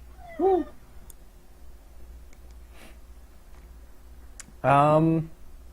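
A human voice imitates a cat's meow, with a short high mew near the start and a longer, louder meow a few seconds later, set against a quiet room.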